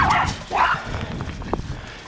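Ellie, a dog playing with another dog named Kirby, lets out two or three short, sharp barks and yips at close range, bursts clustered near the start with quieter scuffling between.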